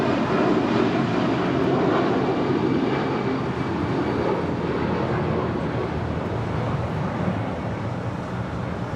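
An airliner takes off from runway 25 right at Los Angeles International Airport, a broad steady engine roar held at a constant level throughout, with no voices.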